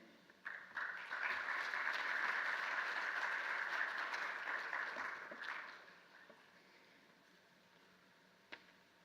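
Sustained round of audience applause after a conference talk on agricultural technology, steady dense clapping swelling for several seconds then fading to sparse scattered claps and quiet room tone.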